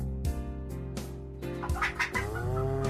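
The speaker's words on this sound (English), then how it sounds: "and then a third chicken sound from the randomizer." Randomised chicken cluck effect in a game test scene, several short clucks followed by a drawn-out squawk over ongoing background music.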